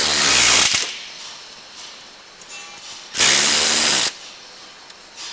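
Two loud hissing bursts of WD-40 spray hit rusted radiator parts on a 2006 Chrysler Pacifica 3.5L, each lasting about a second, with small metallic clicks in the quiet gap between them.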